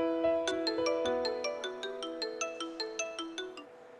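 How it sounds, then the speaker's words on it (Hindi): A phone ringtone plays alone, a bright melodic electronic tune of about fifteen evenly spaced chiming notes repeating steadily, fairly loud and close, with no voices over it. "फोन नहीं उठा रही मैडम। वापस ट्राई करो।"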